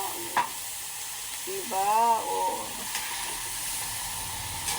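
Tofu sizzling as it fries in a pan for a pork and peanut butter dish, a steady close hiss and crackle throughout with a brief voice speaking partway in.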